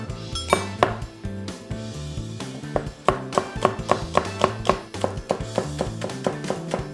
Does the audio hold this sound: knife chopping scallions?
yes